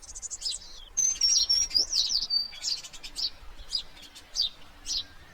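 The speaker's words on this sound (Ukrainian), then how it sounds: "Давайте подивимось, як зраділи птахи." Birds at a seed feeder in winter chirp and tweet repeatedly at close range, quick high bursts in an uneven rhythm over a soft, steady background hum.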